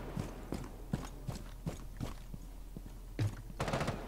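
Gunfire in Rainbow Six Siege, a steady run of sharp, evenly spaced shots followed by a denser burst near the end, fairly faint under game ambience with no talk.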